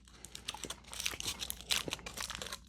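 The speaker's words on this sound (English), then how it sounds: "I'm gonna unwrap these chocolate ones" Foil wrappers are peeled and crinkled off Cadbury chocolate eggs close up, a quiet, irregular series of crackles and crisp rustles with brief sharper crunches, and no talking.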